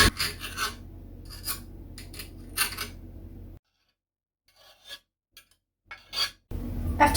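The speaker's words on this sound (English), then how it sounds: "Slice a whole tomato." A knife slices through a whole tomato for guacamole, producing close, rasping strokes and short scraping cuts against a board, with a stretch of near silence before a final few cuts.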